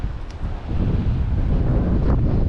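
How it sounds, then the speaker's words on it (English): Strong seaside breeze on a Málaga-area beach gusts across the microphone in loud, rumbling buffets, with faint surf beneath and no one speaking. "It is breezy."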